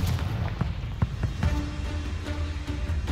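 Explosive spell blasts in the wizarding game Hogwarts Legacy: a rapid series of short booming thumps and crackles in close succession over a dense, rumbling battle bed.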